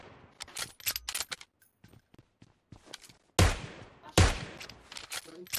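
Gunfire in the battle royale game PUBG: a rapid burst of shots at the start, then two loud, close single blasts later on, with quieter clicks and movement in between.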